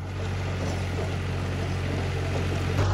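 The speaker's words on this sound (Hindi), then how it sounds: "बड़े अच्छे तरीके चल रहे जी ट्रैक्टर।" A tractor pulling a rotavator through a field drones loudly and steadily, its engine a continuous low rumble with no pauses and no talk.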